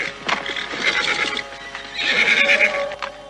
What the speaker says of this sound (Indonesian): aku mendengar beberapa ekor kuda baru saja melintas jalan ini